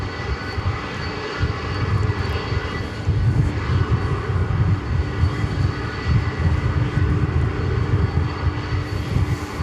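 An airplane at DFW Airport at night gives a loud, steady, low engine roar that fills the whole stretch without a break.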